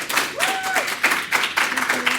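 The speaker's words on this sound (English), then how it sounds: "Another round of applause for Dr. Sheetal." A crowd applauds Dr. Sheetal at the Womandla STEAM Awards 2021 ceremony, with brisk, continuous clapping filling the hall while a voice speaks briefly over it.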